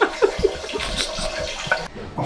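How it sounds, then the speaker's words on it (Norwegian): Splashy liquid stream of a character urinating into water in a video game, close and fairly loud with a few sharp splashes, then cutting off near the end. "Jeg hører at den treffer vannet i hvert fall."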